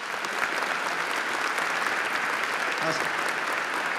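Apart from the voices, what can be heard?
audience applause for widow and children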